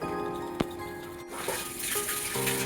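A filter backwash at a water treatment plant sends water rushing out in a steady hissing gush, with a brief knock early on before the flow swells slightly louder and continues.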